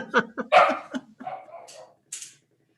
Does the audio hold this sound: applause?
no